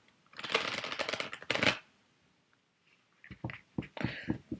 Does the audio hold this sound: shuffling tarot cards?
yes